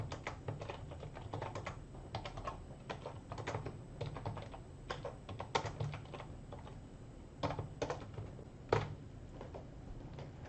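Steady typing on a computer keyboard, a run of quick, irregular key clicks with a few harder strokes, close and alone against a low background hum.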